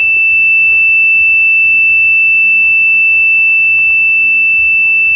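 A steady high-pitched electronic alarm buzzer from a microcontroller-based dam water-level system sounds continuously at constant loudness, with faint low rumbling underneath.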